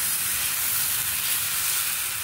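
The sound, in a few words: dosa batter sizzling on a hot pan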